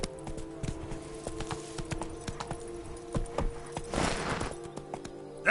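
Roach the horse walks in The Witcher video game, a steady run of clip-clopping hooves, fairly faint and close, with a short gust of noise partway through and no talk.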